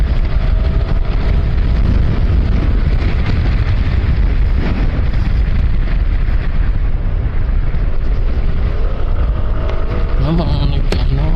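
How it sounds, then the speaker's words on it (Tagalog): Strong wind gusting hard over the microphone on a trail into Minalungao National Park in General Tinio, Nueva Ecija, a steady loud broadband roar that lasts throughout, with faint talk underneath. "Lakas ng hangin eh."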